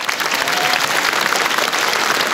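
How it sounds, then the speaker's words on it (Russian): A comedy club audience on a TV stand-up show bursts into loud, dense applause, a steady wash of many hands clapping close up with no talk over it. "Под ваши аплодисменты классификация интернет-дураков."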